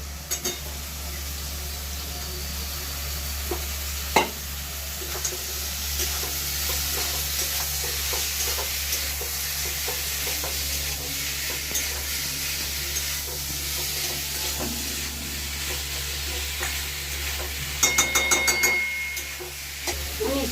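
Thin-cut potato slices fry in a cooked-down spice masala in a pan, a low continuous sizzle with occasional stirring scrapes and a louder clattering stir near the end.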